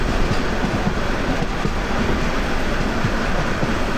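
The Mahanagar Express rolls around a wide curve near Akhaura Junction in fog, giving a steady, loud rumble of wheels and carriages with faint rail clatter and no voices.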